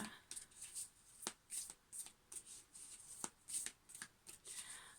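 Viking Tarot cards get shuffled close and quietly, a quick series of soft riffling flicks and papery taps in irregular bursts.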